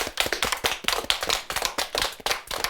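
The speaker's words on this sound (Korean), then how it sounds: "큰 박수로 맞겠습니다" An audience applauds at a Catholic broadcast program honouring Korean martyrs, giving a burst of quick, irregular hand claps that stays close and fairly loud for a few seconds before ending, with no talk over it.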